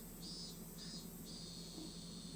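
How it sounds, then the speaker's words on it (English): Cicadas in a quiet clinic, their pulsing high-pitched trill looping steadily over a faint low hum, with no one speaking. "the cicada's the only thing that can be heard"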